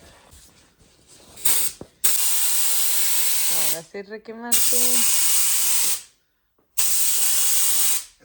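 Long hissing bursts from a spray can on a Monte Carlo custom rear deck, several in a row with pauses between, loud and close; a person speaks briefly between sprays.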